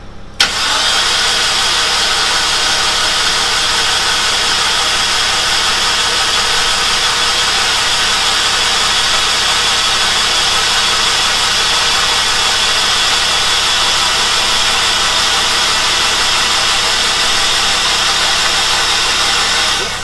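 A turbocharged Mazda MX5 Miata engine cranks briefly, catches and then idles loudly and steadily up close, with the exhaust drone holding constant for about twenty seconds and no voices.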